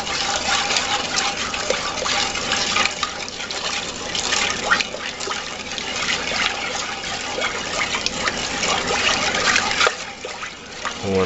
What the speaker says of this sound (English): we're going to slowly add the sugar and stir it as we add it.